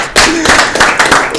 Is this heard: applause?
yes